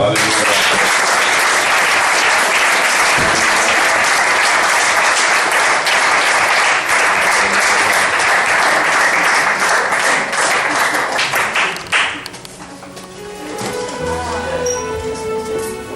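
A church congregation bursts into loud, dense applause acclaiming the Lord, sustained steadily for about twelve seconds before tapering off into quieter murmuring and scattered sounds.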